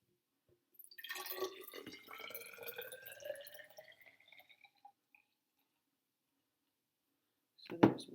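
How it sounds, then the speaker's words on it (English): Water poured from a container into a measuring cup during a home evaporation experiment, a close, steady splashing trickle lasting a few seconds, then quiet, with a brief knock at the end. "I'm going to pour all that water into my measuring cup."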